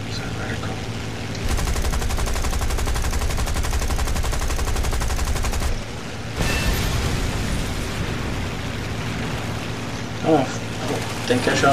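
Rapid aircraft machine-gun fire in War Thunder, a dense, steady rattle of rounds lasting several seconds, then a brief pause and a burst of heavier crackling impacts and explosions with engine drone underneath.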